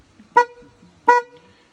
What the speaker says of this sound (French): un klaxon de Dacia